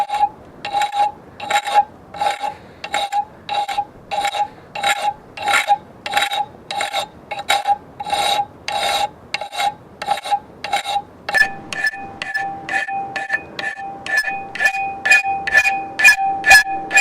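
A hand file rasps along a knife blade being shaped after grinding, in rhythmic, evenly spaced close strokes of about two per second, with the pitch of the scraping shifting partway through.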